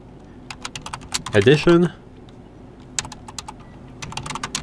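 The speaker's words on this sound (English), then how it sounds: "So I will type in PyCharm Community" Quick bursts of clicking keystrokes on a computer keyboard, typed in short irregular runs, with a person speaking briefly in the middle.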